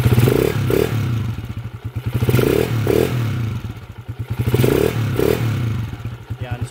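A rebuilt motorcycle engine with slight tappet ticking is revved in a few loud, close rising-and-falling blips over a rumbling idle, with a faint mechanical clatter underneath.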